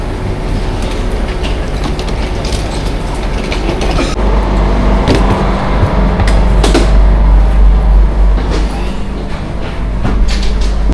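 A metro train in Thailand runs steadily with a loud continuous rumble and rhythmic clacking of wheels, with occasional rattles and thumps inside the carriage.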